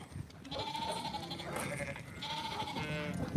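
Ewes and lambs bleat repeatedly on a sheep farm as mothers are separated from their young, with several overlapping calls near and far over a steady background of flock noise.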